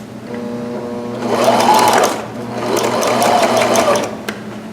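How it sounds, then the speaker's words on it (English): A sewing machine stitches a 5/8 inch seam on pajama pants, its needle whirring loudly and steadily in two close runs separated by a brief slowdown, with a small mechanical click at the end. "5/8 inch seam I'm going to stitch here, which is the outer marking on my throat plate"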